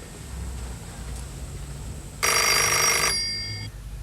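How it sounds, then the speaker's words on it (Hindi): An old landline telephone in a home rings once, a bright, loud electronic bell burst of about a second, clearly alone over quiet room tone. "आपा का फोन है, आप जाके सुनिए।"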